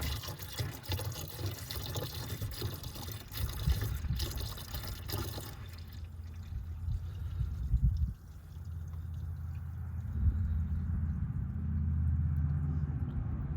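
Windshield washer fluid is poured from a gallon jug into the reservoir of a 2024 Airstream Interstate 24GT van. It makes a continuous close gurgling, splashing pour that turns into a lower, steadier trickle as the reservoir fills.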